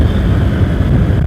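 A Honda Vario 125 scooter with about 1,000 km on it, throttled up: a steady, loud, buzzing engine drone with a rough vibration, heard up close and alone.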